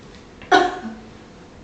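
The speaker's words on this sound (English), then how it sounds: "Cough." A post-mastectomy patient gives a single short, supported cough while splinting the chest with the arm, close and moderately loud, followed by quiet.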